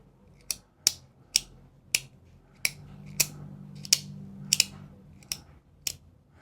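A Tacray Spinium pen clicked from either end, about a dozen crisp, close clicks in an uneven rhythm, with quiet surroundings between them.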